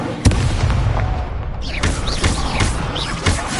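The Incendio fire spell cast in a Harry Potter video game, a sudden loud burst followed by a rumbling whoosh and further booming hits, close and forceful.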